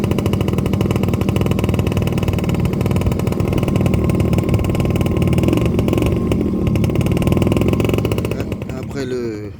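A small scooter engine revs hard and continuously with a rough, crackling exhaust, suggesting backfire pops, loud and close throughout before easing off at the end.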